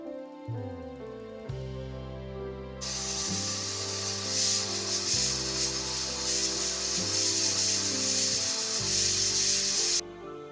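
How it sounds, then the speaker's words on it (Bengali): A pressure cooker boiling new potatoes lets out a loud, steady jet of steam hiss that runs for several seconds and then cuts off, with softer background noise before and after and no talking. "প্রেসার কুকারে দিয়ে দুটো সিটি মেরে নেব যাতে আলুটা তাড়াতাড়ি সেদ্ধ হয়ে যায়"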